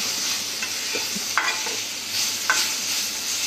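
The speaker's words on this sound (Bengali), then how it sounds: "আমি কিন্তু কচু শাকগুলো একদম শুকনা করে ভেজে নিয়েছি।" Taro leaves are stir-fried dry in a pan. A soft, continuous sizzle sits under a few sharper scraping strokes of the spatula. No talk.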